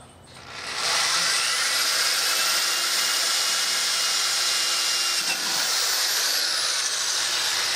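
A power drill bores a start hole into wood for a jigsaw cut on an Adirondack chair, a loud steady high whine that holds for several seconds after a quick spin-up.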